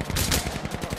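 Gunfire in the World War II shooter Hell Let Loose: a quick burst of close, loud shots over a low rumble, no voices.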